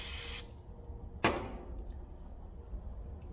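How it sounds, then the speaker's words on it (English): A short hiss of aerosol brake cleaner sprayed onto differential ring gear bolts cuts off, then a second quick spray burst fades out, close by in a quiet workshop. "spray them off with brake clean"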